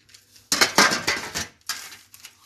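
A metal baking tray for homemade pizza is picked up and set down, giving clattering metallic clanks and scrapes in a few close bursts with short pauses between them.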